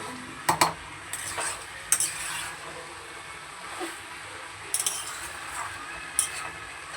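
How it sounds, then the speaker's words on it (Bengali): Small fish and shrimp being stirred and sautéed in a pan for a tomato fish curry, with scattered scraping clinks of a utensil against the pan over a soft background of low sizzling and faint talk. "আর একটু ভালো করে কষিয়ে নেব।"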